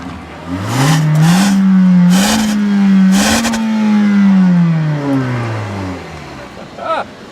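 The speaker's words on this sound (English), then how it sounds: "it lets me rev it all the way to redline" A 2-liter Kia Forte engine revs hard toward redline, its pitch rising and holding high for several seconds before falling back, loud and close. A person speaks briefly over it.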